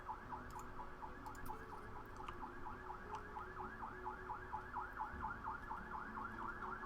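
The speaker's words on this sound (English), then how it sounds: "sorry about the sirens in the background if they're audible" A wailing emergency siren cycles rapidly and evenly in the distance, faint but continuous throughout, behind quiet indoor room noise.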